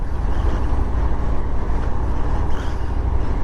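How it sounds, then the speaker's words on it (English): A 2019 Harley-Davidson Fat Bob 114 motorcycle cruising in top gear at about 40 mph gives off a steady, loud low rumble mixed with wind and road noise, and no one speaks. "we're in a 40-mile-an-hour limit and in top gear. Seems to chug along quite nicely."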